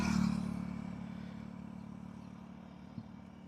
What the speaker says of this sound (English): So I'm going to start the bike again a few times until it shows me the number 6 first